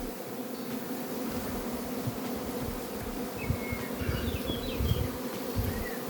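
Honey bees hum loudly on a hive frame during the acacia flow, a dense steady drone close by with a few individual bees whining past, and no voices.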